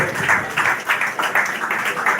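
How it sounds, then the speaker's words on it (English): Crowd at a live event claps together, a brisk, continuous patter of hands in rolling waves, close and full, briefly mingled with voices in the room. "Please clap."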